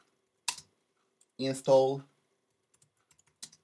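Keys tapped on a Mac keyboard while a terminal command is typed: a few faint, scattered clicks follow a short spoken word, and a louder pair of taps comes at the end.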